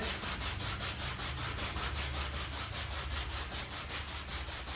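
A rough edge rubbed like a file against an aluminum sign board, a steady fast back-and-forth scraping that repeats in an even rhythm, close and continuous.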